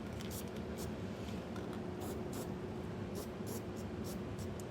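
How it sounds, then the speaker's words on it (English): Spray paint hisses steadily from a can onto bare metal on a 2022 Ford F-250 truck during a hitch kit installation, a continuous close airy spray running the whole time without pause. "I'm going to just use some spray paint to cover that up so this doesn't rust in the future"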